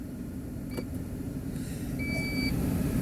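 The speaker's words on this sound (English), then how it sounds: "So you've heard the beep." A short electronic beep from a Toyota smart key while programming seat memory positions, clear and close over a low steady car interior hum.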